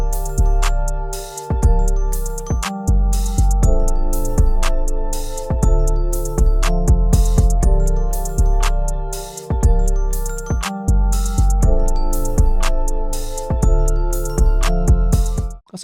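A loud, full beat with punchy drums, sharp hi-hats and deep booming 808 bass under a repeating melodic loop.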